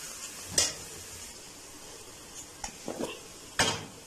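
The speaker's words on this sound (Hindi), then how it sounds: "अब यहाँ पे मसाले जो है वो मिर्चें जो है वो भुन चुकी हैं" Chilies and spices frying in a pan for a bindi aloo dish, with a steady quiet sizzle and a few sharp scrapes and clinks of a spoon against the pan, close by and with no talk.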